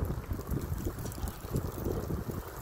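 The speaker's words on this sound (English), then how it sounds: "Oh wow, it's windy." Steady wind gusting hard across the microphone, a low rumbling roar with no voices.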